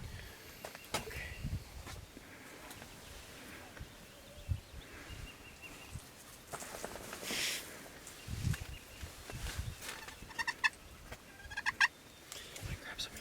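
Wild turkey toms gobble repeatedly in a Kansas field during an archery hunt, several rattling bursts at moderate distance amid rustling and footsteps, with faint murmurs now and then.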